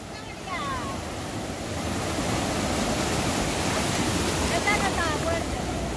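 Sea waves rolling in at El Majahual beach in El Salvador, a broad wash of surf that swells louder after the first second and stays strong, with faint birdlike chirps and distant voices briefly mixed in.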